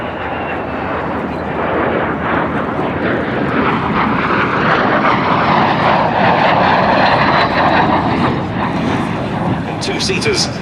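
A MiG-15UTI and a de Havilland Vampire jet fly over Duxford airfield, producing a loud, continuous engine roar that swells slightly in the middle, with a voice speaking over it.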